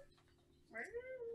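A cat gives a single drawn-out meow that rises and then slides down, near and distinct, after a stretch of low murmuring voices in the room.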